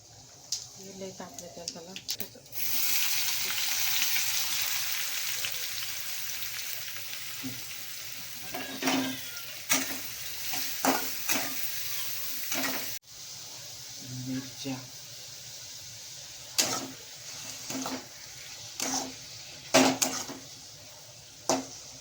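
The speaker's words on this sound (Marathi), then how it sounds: "तेल तापलं मित्रांनो तर आता आपण आहे ना जिरा टाकू" Cumin seeds crackling in hot oil for a wild-gathered vegetable dish, a loud burst of sizzling at first that settles into a quieter hiss broken by scraping stirs and clinks of the pan.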